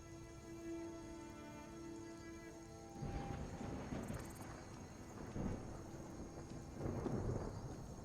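Rain falling in the Skyrim video game, a steady wash of drops with a rumble of thunder building midway, heard alone without any talk.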